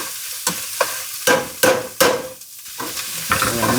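Tomato paste frying in a pan over medium-high heat is stirred, giving a series of scraping, sizzling strokes close by. The bursts come about every half second and are followed by a softer, continuous crackle.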